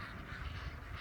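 Ducks on a small farm with Nigerian Dwarf goats quack in a steady murmur through a short stretch, fairly close and moderately quiet, with no talking.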